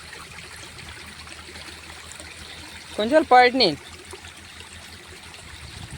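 A stream gurgles and trickles steadily after heavy rain near Porbandar, a constant close wash of flowing water with a short burst of talk partway through.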